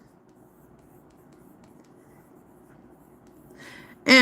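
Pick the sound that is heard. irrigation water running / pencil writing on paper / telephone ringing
pencil writing on paper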